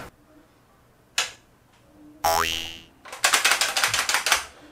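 Toy Kriss Vector gun with an internal fault: a plastic magazine clicks into place, a short springy electronic twang follows, then a quick series of sharp switch clicks rattling close by, without the gun firing.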